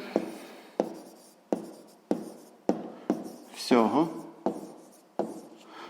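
Marker or chalk strokes on a board during a sixth-grade maths lesson, about eight short, regular scratchy strokes at close range, with one longer squeaky sweep near the middle and no talk over them.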